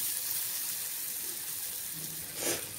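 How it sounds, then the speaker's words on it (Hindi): About two spoons of water go into frying masala in a pan for a potato brinjal dish, a low steady sizzle ending in a brief splashing gush near the close. "इसमें मैं 2 चम्मच करीब पानी ऐड कर रही हूँ"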